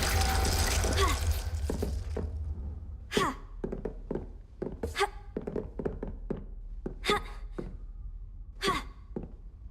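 Spell effects from Hogwarts Legacy, including the Glacier freezing spell: a noisy opening burst, then a series of sharp icy cracks and thuds separated by short quiet gaps.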